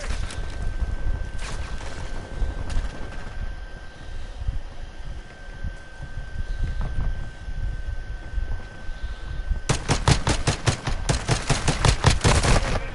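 Rapid Glock handgun fire in Modern Warfare 2, bursts of sharp shots clustered loudly toward the end over steady game ambience and scattered earlier pops.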